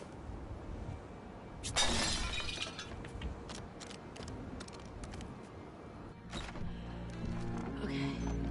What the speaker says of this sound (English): You know that you broke that glass